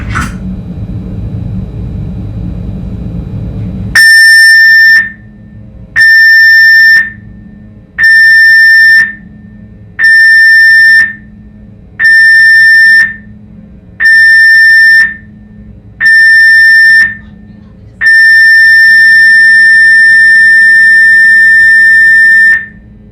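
The Carnival Venezia's general emergency alarm blares over the ship's PA: seven loud, evenly spaced short blasts of a piercing tone, then one long sustained blast, with no talk over it.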